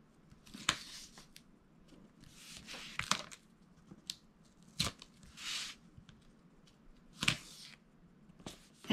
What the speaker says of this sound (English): So then I'm going to peel away my tape.